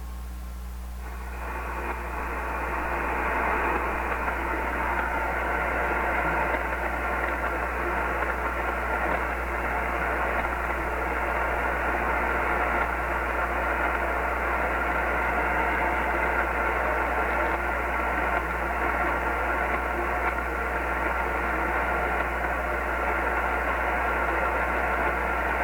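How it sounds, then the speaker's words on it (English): On a radio receiver a weak signal lies buried under steady hiss and static. The even noise holds a low constant hum and a faint, indistinct tone throughout. "There's a real weak signal there somewhere."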